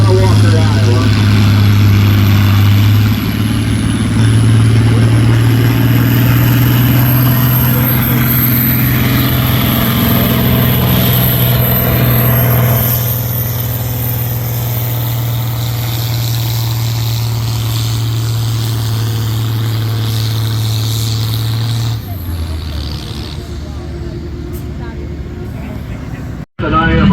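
A pulling tractor at a tractor pull near Walker, Iowa, running under the 3,000 RPM limit, roars loudly and steadily for about twenty seconds, then cuts off abruptly. People talk over it.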